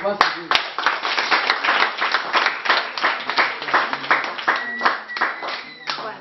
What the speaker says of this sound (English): So I would like to clap